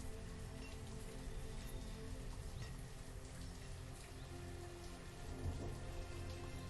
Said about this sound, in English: Also, it's raining again.